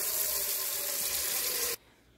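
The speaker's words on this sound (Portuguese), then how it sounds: "Nessa panela, a gente vai colocar água, água normal" Ordinary tap water running into an old cooking pan, a bright, steady hissing splash that cuts off abruptly near the end, leaving near silence.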